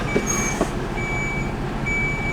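Steady reversing beeps repeat at a regular pace over a constant engine rumble, moderately close.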